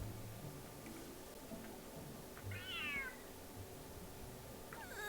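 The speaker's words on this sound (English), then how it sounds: "Cat is hissing at me, Miss Rosaria." A cat in a video game cat event, giving a single short meow partway through, fairly faint over a steady game ambience hum.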